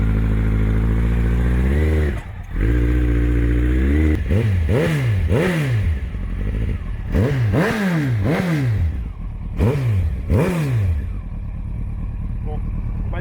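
A slightly cold motorcycle engine, idling with a touch of choke, revs repeatedly in first gear as the clutch is eased out to ride it into a camper van's storage hold, loud and close with speech over it.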